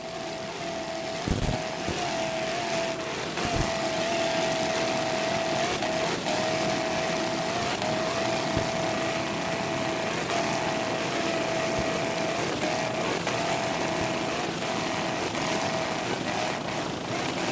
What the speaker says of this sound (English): Nice jump, nice throttling by Mark Schnepp from Coram, New York.